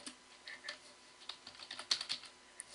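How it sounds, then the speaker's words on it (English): Keys on a computer keyboard click in quick irregular bursts as a word is entered into a search box, close and fairly quiet with no speech. "if you don't want to type the entire name, let's just type in Holocaust"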